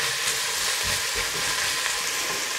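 Flour-dusted potatoes and sausages for potato soup frying in a pot while being stirred, a continuous close bright sizzle with soft scraping of the spoon underneath.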